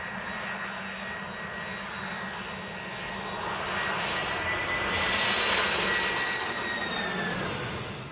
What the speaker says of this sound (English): She goes to an airport in Tampa and sees the jet land and literally starts crying.